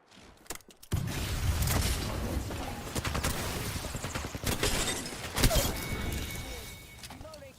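Dense, sustained gunfire from the shooter video game Apex Legends fills the whole stretch with rapid overlapping shots and sharp cracks, loud and close, after a brief quiet start.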